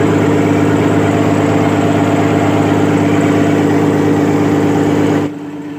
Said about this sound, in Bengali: আমাদের লঞ্চ প্রচণ্ড স্পিডে নামখানার দিকে চলেছে